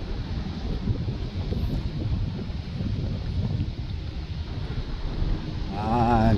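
Strong wind buffets the microphone at the seaside by a drawbridge in Kuala Terengganu, a steady loud broadband roar lasting throughout with a brief voice near the end.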